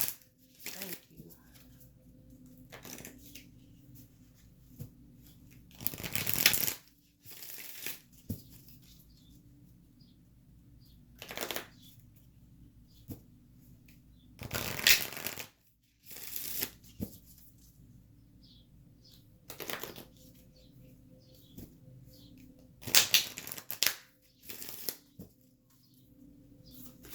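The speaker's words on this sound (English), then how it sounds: "We're using the Moonology cards right now." Moonology oracle cards being shuffled by hand in several short riffling bursts separated by quiet pauses, close and soft, with a few brief spoken words between shuffles.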